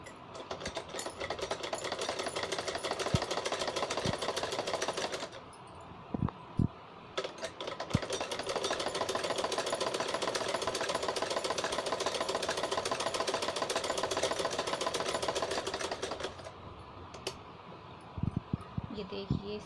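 A sewing machine stitches a cloth face mask, a close, fast, even mechanical whirr in two long runs separated by a quiet pause with scattered clicks and handling noises.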